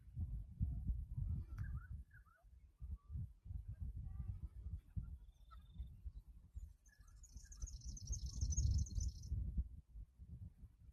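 Birds chirp and whistle in scattered short calls at a Blue Mountains lookout near Lincolns Rock at sunset, fairly faint over steady low wind rumble and footsteps on a trail.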